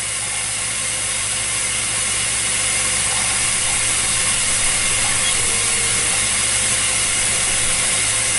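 A glass lathe spins and twists a glass tube, giving off a steady, loud mechanical hum and whir that does not change over the whole stretch.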